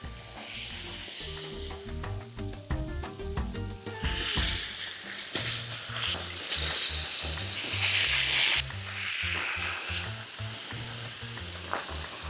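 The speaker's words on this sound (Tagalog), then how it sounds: "Piniprito ko lang yung parehong sides ng isda hanggang sa maging golden brown na yung kulay nito." Fish frying in hot oil, with a constant loud sizzle and crackle and intermittent bursts of sputtering and stirring, close and steady throughout.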